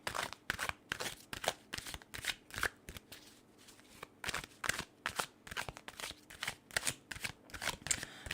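Tarot cards are shuffled by hand in a quick series of crisp riffling bursts and flicks, close and fairly quiet, with brief pauses between rounds and no talk.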